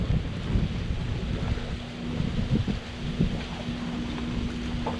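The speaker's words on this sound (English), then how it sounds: "It's a little bit windy" Wind gusts roar steadily at an outdoor spot in the Florida Keys, with heavy low rumbling buffeting against the microphone and a faint constant hum underneath, no talking.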